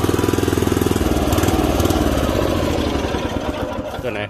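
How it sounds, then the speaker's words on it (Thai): A small four-wheel dump truck's 5 hp four-stroke gasoline engine runs close by, a loud rapid chugging putter that steadies into an even drone. "สตาร์ทติดง่ายมากเลย"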